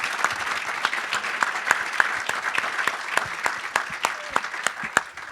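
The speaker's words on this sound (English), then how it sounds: "How about a round of applause for our panel here?" An audience applauds a panel at the close of an evening discussion on democracy, a dense, steady wash of many hands clapping that holds without letup throughout.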